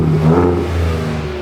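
Ford Ranger Raptor 2024 with the 3.0-litre V6 EcoBoost and automatic gearbox, exhaust valves open, gives a short rev: a loud, steady engine drone with a brief rise in pitch, close by.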